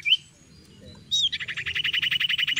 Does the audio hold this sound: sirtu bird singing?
yes